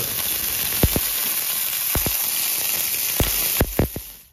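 Butter sizzles steadily in a hot pan, a continuous crackling fry with a few sharp pops and clicks scattered through it, no talking.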